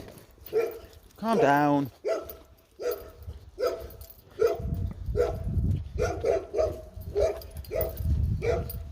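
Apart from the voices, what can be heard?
Labrador dog barking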